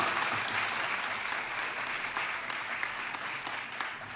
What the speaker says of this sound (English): So let's give them a round of applause so far.